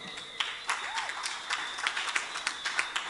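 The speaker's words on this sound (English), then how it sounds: "let's congratulate with a big round of applause Mr. Frederick Europe" Audience applause at a security guard service's quarterly and annual award ceremony, a steady spread of many hands clapping at moderate level, with scattered sharper claps standing out and a faint voice briefly audible underneath.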